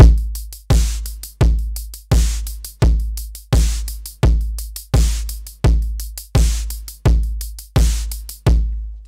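Analog drum machine pattern run through compression, a steady repeating beat of heavy low kick thumps with crisp hats and snappy hits, loud and upfront with no voices.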